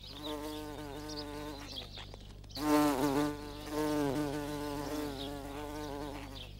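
A bee's buzzing drone hovers close by its nest, steady with slight shifts in pitch, rising louder briefly midway before settling back to a continuous hum.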